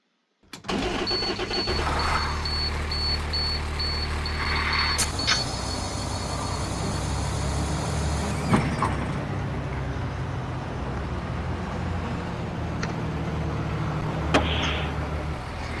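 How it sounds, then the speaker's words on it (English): A 2004 Blue Bird International 3800 school bus with a DT466E diesel starts up in the Rigs of Rods game, a brief crank followed by a steady, droning idle that carries on with a few clicks and knocks. "But we'll get you a little startup on this bus"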